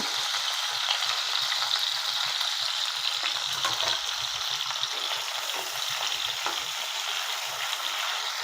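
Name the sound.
lightly frying potatoes and beans in a pan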